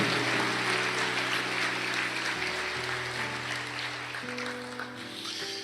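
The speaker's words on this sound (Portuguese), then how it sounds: "dá uma salva de palmas" A church congregation claps together in a sustained burst of applause, fairly quiet and distant, fading gradually over a few seconds beneath a soft held keyboard chord.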